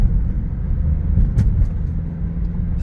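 A 2013 BMW 328i xDrive heard from inside while driving, a steady low engine and road rumble without clear gear-change steps, plus a few faint clicks and rattles.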